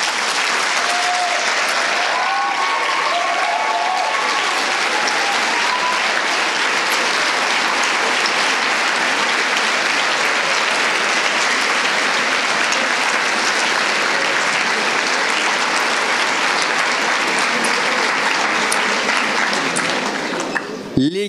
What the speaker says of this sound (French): Je demande donc aux vaincus ici présents de se lever et à l'assistance de les applaudir.